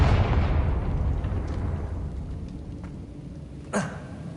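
A Confringo spell explodes in Hogwarts Legacy: a loud, rumbling blast that fades over several seconds, then a short, sharp pop near the end. No one speaks.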